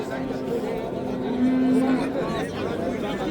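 A cow at a Samarkand livestock bazaar gives a brief, low moo midway, partly masked by continuous talking and crowd murmur around it.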